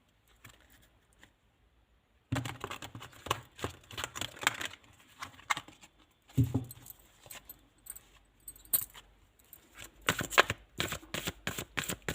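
Tarot cards shuffled by hand in bursts of rapid riffling and soft slaps, close and clear, with short pauses between rounds and no talking.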